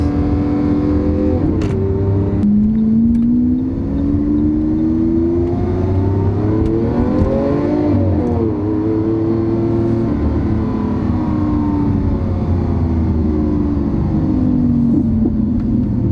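A Lamborghini Aventador's engine revs hard under acceleration, loud and close throughout, with rising and falling harmonic pitch sweeps as the car pulls through its gears and a deep rumble underneath.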